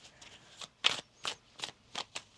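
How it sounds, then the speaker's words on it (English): Tarot cards being shuffled by hand, a series of quick crisp riffling bursts in an uneven rhythm, close and clear with no talking. "One more shuffle."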